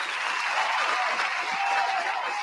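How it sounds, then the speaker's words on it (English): Brief crackling applause from a small group, steady clapping at moderate distance for a couple of seconds with no talk over it. "I got to give you a round of applause"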